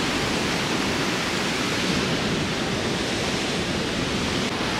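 Ocean waves wash onto a cold beach in a loud, unbroken roar of surf that holds steady throughout, with no voices.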